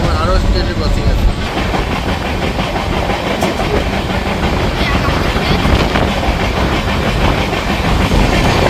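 A Purulia–Howrah superfast passenger express running at speed, heard loud and close from the coach doorway as a continuous roaring rumble with rhythmic wheel clatter and wind rush throughout.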